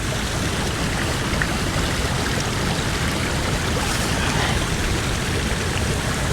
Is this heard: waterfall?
yes